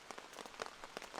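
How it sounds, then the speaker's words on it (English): Very light rain pattering steadily on a camp shelter overhead during a multi-day rainstorm, soft irregular taps close by with no voices. "Very light rain right now."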